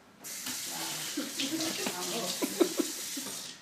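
Pre-boiled rotini pasta poured into a bowl gives a continuous wet, splashy rush with a couple of louder slaps near the end, close by under a faint voice.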